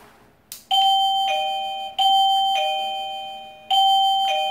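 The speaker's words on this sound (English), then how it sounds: "Here's the doorbell." A doorbell chimes several times, each bright two-tone ding ringing out and fading before the next, loud and close with no one talking.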